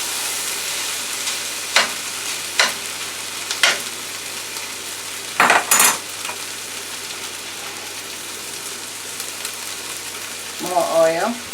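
Jasmine rice and vegetables being stir-fried Thai style in a pan, with a steady sizzle of hot oil broken by a few sharp scraping stirs and clatters, and a brief voice near the end.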